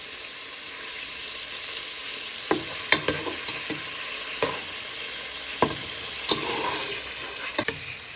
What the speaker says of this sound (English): and then you'll place your pork steaks back in. So you just keep flipping them for 3 to 5 minutes.